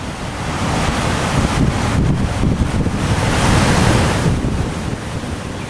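Powerful ocean surf crashes continuously against a rocky coastline, a loud sustained roar of breaking waves with gusts of wind buffeting the microphone.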